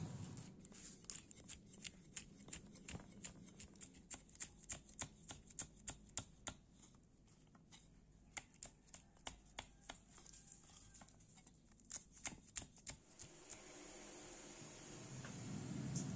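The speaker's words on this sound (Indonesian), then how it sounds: "Cabai ini kita potong kecil-kecil." A knife chops chili peppers into small pieces on a board for fried chili with tuna lawar, making a quick, steady run of crisp taps close by that is faint overall, with a short pause midway.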